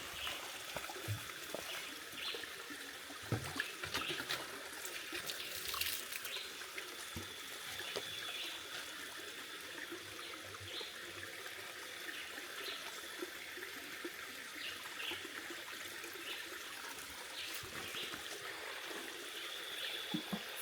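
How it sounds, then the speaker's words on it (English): Fresh spring water from the mountains in the hills of Jamaica trickles and pours steadily for a long stretch, a continuous close watery hiss with small splashes and no talking. "Pulling up some nice, fresh spring water right now."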